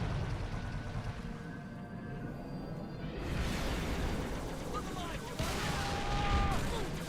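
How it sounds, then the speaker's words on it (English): Halo 3 battle with sniper rifle fire, rapid bursts of gunshots and blasts layered over a dense roar of combat, mid-distance and continuous, with beeping electronic tones threaded through. "Why is the sniper guy shooting?"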